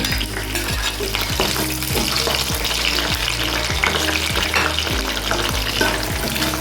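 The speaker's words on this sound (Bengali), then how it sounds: "আমি গাজরটাও ভেজে নেব গাজরটাও হালকা করে ভেজে নেব" Sliced carrot frying lightly in oil for a cauliflower and prawn dish, giving a steady, close, even sizzle that runs unbroken throughout with no talking.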